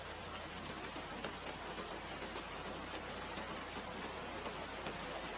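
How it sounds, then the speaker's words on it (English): Rain patters against a window in a dense, even hiss of fine taps, steady and faint throughout with no voices. "The rain taps against my window tonight in that familiar rhythm."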